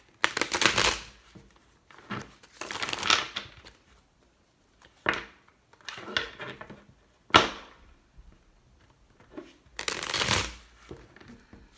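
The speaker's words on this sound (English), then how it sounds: "Two more shuffles." Tarot cards shuffled by hand in a series of crisp riffling bursts, each a second or so long and separated by short pauses, close and alone.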